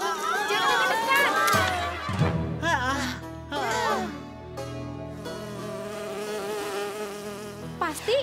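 Honeybees buzzing inside a flower, a steady insect drone running beneath voices that talk over it throughout.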